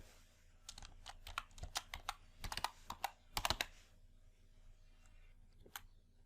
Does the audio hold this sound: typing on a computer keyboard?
yes